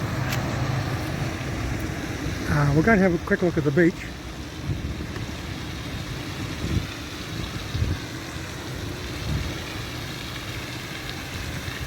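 A noisy truck engine rumbles steadily along the beachfront in Napier, mixed with wind, while someone speaks briefly over it.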